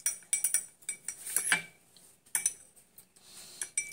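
A spoon stirring honey into a drink in a cup gives a run of light, irregular clinks and taps against the sides, close and fairly quiet, with short pauses between bursts and no talking.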